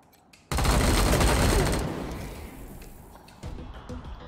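A burst of gunfire in the video game Wasteland 3, a sudden loud crackling volley that rings out and decays, followed by a softer shot-like hit near the end.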